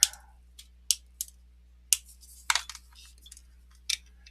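Scissors or a hobby blade snip through material while trimming a piece for a Greek-themed miniature model base, giving a series of crisp, close cuts at an uneven pace in a quiet room.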